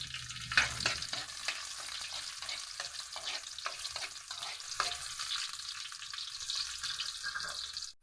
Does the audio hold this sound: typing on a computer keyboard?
no